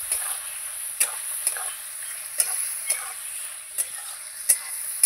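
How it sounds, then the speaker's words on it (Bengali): Onion, ginger, garlic and cumin paste frying in a pan, a steady hiss of sizzling punctuated by regular spoon strikes and scrapes about every half second, close and clear. "এখানে পেঁয়াজ, আদা, রসুন, জিরে বাটা আছে, এটা আমি দিয়ে দেবো। দিয়ে আবার আমি ভালো করে নাড়াচাড়া করে নেব।"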